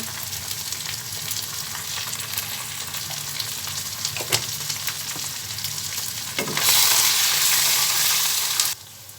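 Garlic paste and turmeric fry in a pan with a constant close sizzle. Near the end it swells into a louder, harsher hiss for a couple of seconds, then drops away.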